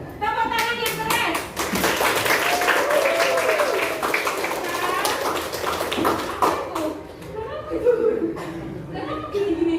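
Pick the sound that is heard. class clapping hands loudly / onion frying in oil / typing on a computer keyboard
class clapping hands loudly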